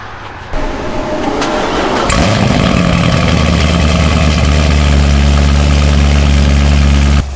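A loud car engine rumbles to life and settles into a deep, steady idle, throbbing close and constant.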